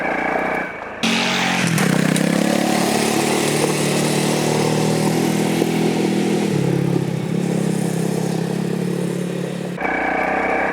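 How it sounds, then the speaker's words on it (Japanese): A Honda CRF250L(S) motorcycle cruises in third gear along a straight stretch of forest dirt road, its engine a loud, steady drone with wind noise and a slight shift in pitch midway. "ここは比較的ストレートな区間なんで3速で気持ちよく流せます。"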